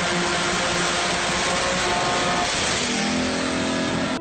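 A small 3D-printed engine revving hard and steadily, a loud sustained high-pitched whine with layered harmonic tones that shift slightly in pitch partway through, with no talking.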